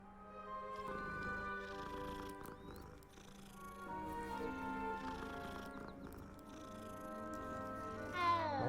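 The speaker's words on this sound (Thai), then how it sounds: "อ้นี่ไงน้องแมว" A cat meows in the video game Hogwarts Legacy, with steady orchestral game music throughout and a brief rising sweep near the end.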